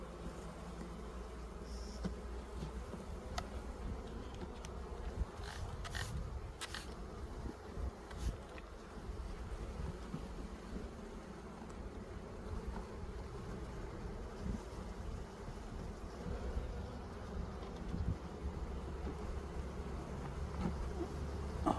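Honeybees buzz steadily around an opened hive during an early-spring hive inspection, a dense continuous hum with wind noise and occasional sharper close passes.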